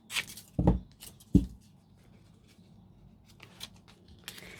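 Scissors snipping washi tape: two sharp, close cuts in quick succession, followed by faint rustling of paper and tape in a quiet room.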